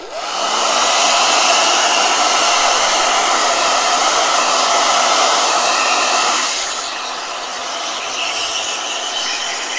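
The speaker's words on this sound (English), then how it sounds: "Blow dryer." A blow dryer runs steadily with a loud, close, broadband whooshing roar, then shifts to a slightly lower, softer setting for the last few seconds, with no voices.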